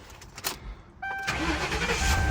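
A seized police-auction car engine cranks and catches after a quiet moment, then settles into a steady, loud idle with a faint whine, close by with no talk.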